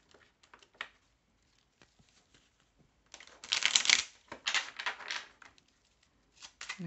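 Belline oracle cards being shuffled by hand: light riffling flicks and taps at first, then a louder, dense burst of cards sliding and slapping together for a few seconds, followed by more shuffling bursts, close and clear with no speech.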